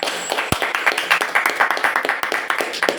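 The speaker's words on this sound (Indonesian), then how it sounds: "Oke, tepuk tangan." A classroom group applauds, many hands clapping in a quick, dense patter that stays loud and close for the whole stretch, with a few sharp individual claps standing out.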